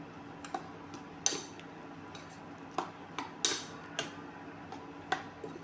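A spoon scrapes and taps against a pot while ground coconut is stirred into a brinjal and peanut curry, with sharp irregular clinks spaced a second or so apart over a low, quiet background.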